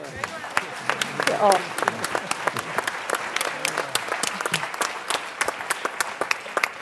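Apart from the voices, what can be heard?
audience applause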